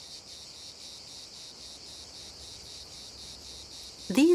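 Insects chirp in a steady, pulsing high drone during Provence summer heat, the trilling continuous and moderately loud for several seconds before a sudden louder burst near the end.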